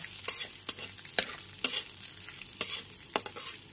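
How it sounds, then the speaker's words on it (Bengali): Whole cumin seeds and a torn bay leaf fry in hot oil for a mutton curry, a soft continuous sizzle broken by about seven sharp spoon scrapes against the pan at uneven intervals, close up and with no voices. "জিরে আর তেজপাতাটাকে খুব ভালো করে হালকা করে ভেজে নেব।"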